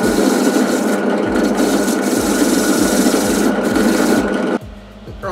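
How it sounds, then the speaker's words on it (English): A wire wheel scrubs and rasps steadily across MIG-welded steel rod wing parts, a close, loud continuous grinding hiss with a rhythmic low whir, ending abruptly near the close. "Just give that a quick clean up on the wire wheel."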